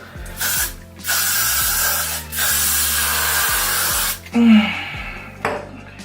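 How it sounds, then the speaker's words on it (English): A hairspray nozzle hisses in several bursts, three long sprays and a short final one, close and loud, with small clicks between them. "I'm gonna spray it down because I am getting like little flyaways"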